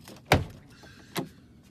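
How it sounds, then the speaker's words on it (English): The rear-hinged suicide doors of a Rezvani armoured truck move with two distinct mechanical thuds, a louder one first and a softer one about a second later, close by. "Suicide doors."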